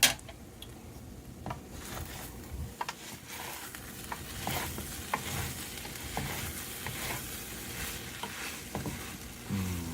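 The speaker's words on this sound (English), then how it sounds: "Listen to that sizzle." Chicken, peas and saffron rice sizzle and crackle in a pan, a close, steady frying hiss with scattered pops and an occasional light scrape or stir, no talking.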